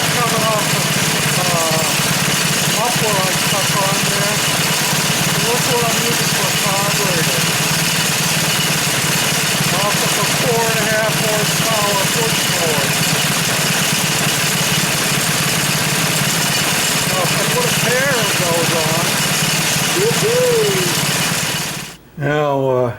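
Small engine on Goofy's cart idling steadily with a rough, continuous rumble close by for the whole stretch, while a voice talks over it, before the sound cuts off at the very end.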